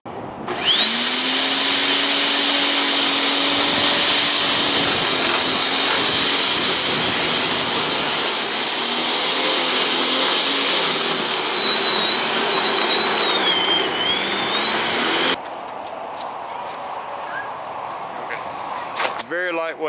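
A Rock&Rocker 16-inch electric lawn scarifier runs with a loud, steady high-pitched motor whine and a whirring drone, close by. It cuts off abruptly near the end, leaving scattered quieter handling noises.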